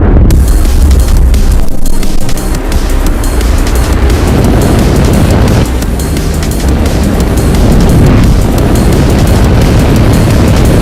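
A SpaceX Falcon 9 rocket lifting off from a Florida space center with Starlink satellites, a continuous, overwhelming, near roar with deep rumbling that saturates the whole clip without letup.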